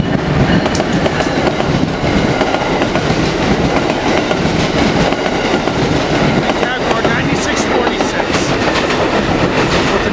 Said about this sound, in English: Here we got an Amtrak Keystone coming in to Bryn Mawr here